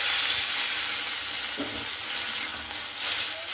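Water poured into potatoes frying in a pan, setting off a loud close sizzle and hiss that is continuous, with brief stirring scrapes partway through.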